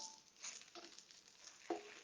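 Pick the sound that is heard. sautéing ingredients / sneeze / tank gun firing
sautéing ingredients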